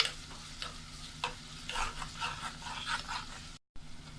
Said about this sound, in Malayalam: ലൈറ്റ് ബ്രൗൺ കളർ ആകുന്ന വരെ നമുക്കൊന്ന് വഴറ്റിയെടുക്കാം